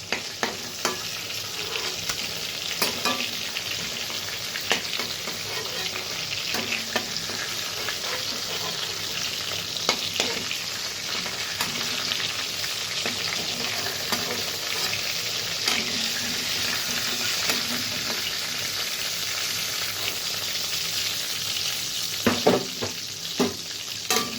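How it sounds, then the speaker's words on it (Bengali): Boal fish fry in hot oil with a dense, continuous crackling sizzle, broken now and then by stirring clatters and pan knocks, and no voices. "তো মাছগুলো ভাজা হয়ে গেছে"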